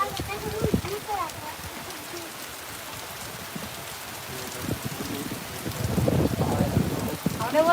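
Rain falls steadily as a soft wash of noise, with a low rumble swelling near the end that may be thunder, somewhat distant.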